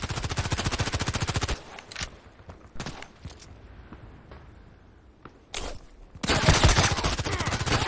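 Rapid automatic shots crackle at the start and end, with a few isolated single shots in the quieter middle, during a first-person shooter session using an FN Five-seven pistol fitted with a silencer; no voices.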